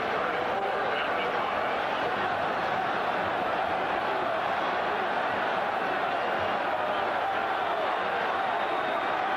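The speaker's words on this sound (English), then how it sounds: "Crowd crying for Texas to go for it." A packed college football stadium crowd at a 1986 Oklahoma Sooners vs Texas Longhorns game roars steadily and continuously, a dense, unbroken wall of noise from start to finish, with a commentator talking over it.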